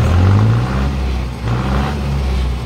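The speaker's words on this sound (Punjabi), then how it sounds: "ਬਾਕੀ ਤੁਸੀਂ ਇੰਜਨ ਦੀ ਜਿਹੜੀ ਚੱਕਰ ਲੈਣ ਦੀ ਸਪੀਡ ਉਹ ਦੇਖੋ" Close up, a Mahindra Arjun Novo tractor's diesel engine revs and swells with rising, falling throttle, loud and with no talking.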